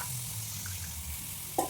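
Chillies dropped into a hot frying pan during home cooking, a soft steady sizzle with a small clink near the end, fairly quiet and with no talking.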